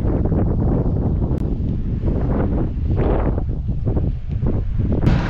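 Steady, loud wind buffeting the microphone with continuous rumbling gusts, and a faint rustle now and then.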